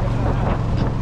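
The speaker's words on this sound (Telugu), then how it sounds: "నాకు ఈ అమెజాన్ నదిలో ఈ పడవలో ప్రయాణిస్తుంటే అచ్చం నాకు మన గోదావరిలో ప్రయాణించినట్టే అనిపించిందండి" A boat travels along the Amazon river near Iquitos, Peru, with a close, low engine drone and wind buffeting that carry steadily through a brief moment.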